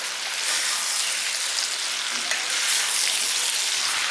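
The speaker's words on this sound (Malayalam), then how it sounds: "നല്ലതൊന്ന് ഇളക്കി യോജിപ്പിക്കാം." Lemon pickle being stirred in a pan makes a dense, continuous sizzle like light rain. It stays even and close for a few seconds, with one faint knock and no talking.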